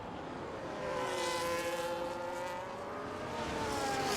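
Red Bull Formula 1 car on hard tyres in F1 25, a steady high-revving engine whine heard onboard, sustained and fairly even with slight pitch shifts, no talk.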